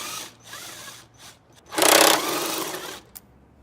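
Bolts are removed from a car's air filter housing with a power tool, giving short whirring bursts, with one louder sustained buzz in the middle, up close.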